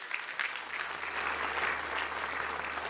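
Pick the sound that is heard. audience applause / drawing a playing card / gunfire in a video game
audience applause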